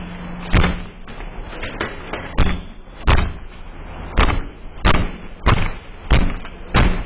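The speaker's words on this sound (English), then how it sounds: "So he goes into the good old horse kick and still can't kick the door down." Repeated heavy kicks against an apartment door, about eight loud thuds and bangs landing at an uneven pace, each a sharp impact with a brief rattle, no talking.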